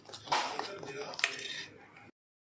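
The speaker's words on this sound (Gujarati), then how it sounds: "હવે આ રીતે બરાબર તેને ફેટી કાઢવાનું છે" Ghee and maida flour beaten together in a bowl make quick clinking, scraping spoon strokes that stay close and fairly quiet, with a voice speaking over them.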